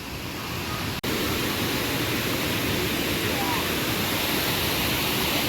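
Heavy monsoon rainwater rushes across a road in Konkan in a loud, steady wash of noise, continuous and close, with a brief break near the start.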